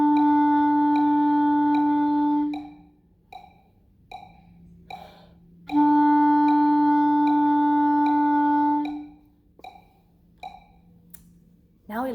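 Clarinet holds a steady sustained note for about four beats, played twice with short gaps between, with soft clicks and breaths in the pauses; close and clear, no talking.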